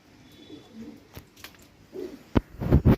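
Pigeons coo softly in short low phrases, fairly near, with a few louder knocks and rustles toward the end and a faint voice in the background.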